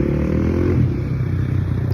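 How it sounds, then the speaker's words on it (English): Loud motorcycles idling and rumbling nearby beside a bus stop, a continuous low throbbing engine drone that holds steady throughout. "There's some motorcycle guys right there. Never got into motorcycles, but they look cool. They're just loud."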